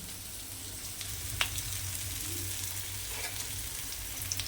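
Chopped onion and garlic sizzle on a hot tava in a steady, quiet hiss, with a few small pops and clicks scattered through.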